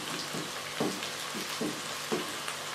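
Chopped tomatoes frying and being stirred into a fish and pea curry in a pan, a soft continuous sizzle with periodic scraping stir strokes about every half second, close and quiet, no voices.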